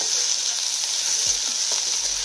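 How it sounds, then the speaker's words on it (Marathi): Chopped onion sizzling in hot oil in a pan on high flame for a Marathi vegetable dish, a bright steady hiss with a few soft stirring knocks. "आता कांदा टाकलाय, असा मिक्स करायचा"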